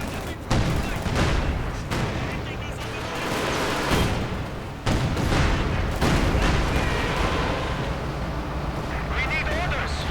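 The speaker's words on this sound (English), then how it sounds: "Katyusha arriving for Vlad. He's not giving up on the artillery." Katyusha rocket artillery fires in a Company of Heroes 2 match, loud bursts of rocket launches and explosions rolling through, with a commentator talking over the battle.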